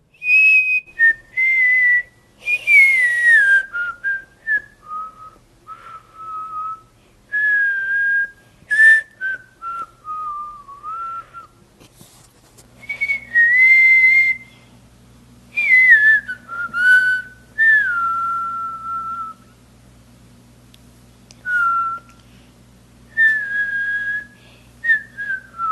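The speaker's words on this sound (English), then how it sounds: "so many more of you sent us your own versions of the But Why theme music and you whistling it" Children whistle the But Why theme tune in a string of separate takes, each one clear, close and melodic, with short gaps between them and a low steady hum under the later takes.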